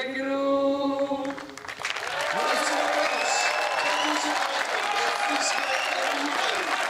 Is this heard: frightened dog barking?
no